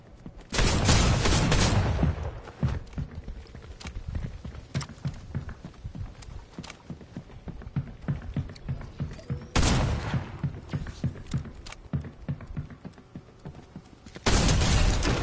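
Gunfire from a Fortnite match, with bursts of shots and impacts packed into dense loud stretches near the start, around the middle and at the end, and scattered quieter shots in between.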